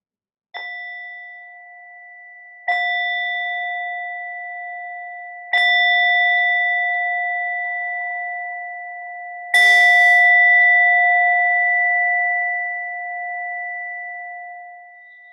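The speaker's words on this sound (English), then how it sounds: "in a moment, you'll hear the sound of the bell once again." A meditation bell is struck four times at slow, uneven intervals, each clear ringing tone sustaining and fading gradually before the next strike, the last one brighter and louder, with no talking.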